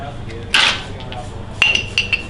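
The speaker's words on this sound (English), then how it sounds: "Put our lifters in there." Metal Harley-Davidson lifters dropped into a glass mason jar of oil, a few quick bright clinks and a clatter, with someone talking softly around them.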